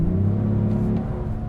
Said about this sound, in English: There's some fake engine noise that's not present in normal or comfort.